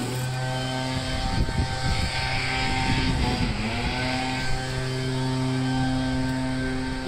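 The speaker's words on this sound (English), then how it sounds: "These guys have been leaf blowing since 7 a.m." Leaf blowers run in the morning with a continuous droning whine, a steady engine hum that swells slightly at moments, loud and close without pause.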